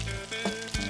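Food fries in a smoking-hot pan with butter, giving a steady, close, loud sizzle throughout.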